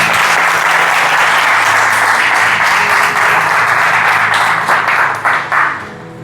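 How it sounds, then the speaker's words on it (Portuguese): Church congregation applauding during a service, a loud, dense wash of clapping that holds steady and then thins and tapers off toward the end. "Você pode aplaudir a Jesus?"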